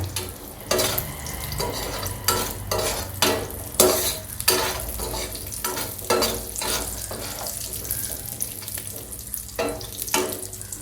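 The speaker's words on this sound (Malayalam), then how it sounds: "അപ്പോൾ നിങ്ങൾ കൈയെടുക്കാണ്ട് തന്നെ ഇളക്കിക്കൊണ്ടിരിക്കുക." Cashews and raisins frying in hot fat in a pan for chicken biriyani, stirred continuously with repeated rhythmic scraping strokes over a constant crackling sizzle, close and fairly loud, no speech.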